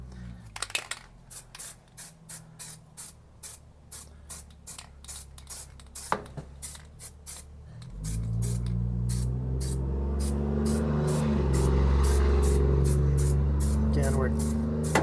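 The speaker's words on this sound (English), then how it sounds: "So I'll spray stuff that I've already cleaned up, and so I'm just using this weld through primer." Aerosol can of weld-through primer sprayed onto cleaned metal while replacing the floor halves of a 1971 Nova, heard as a long run of short, evenly spaced hissing bursts, then fading under a steady low rumble of background noise.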